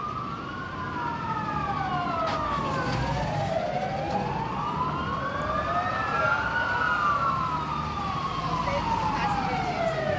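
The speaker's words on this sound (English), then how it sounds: "more fire trucks" Several fire truck sirens wail at once, their rising and falling tones overlapping continuously over steady traffic rumble, loud and close throughout, at a convoy rally in Bendigo.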